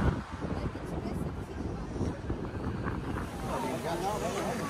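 Wind gusts at the Colosseum in Rome, heard as a steady rumbling buffet against the microphone while someone talks through most of it.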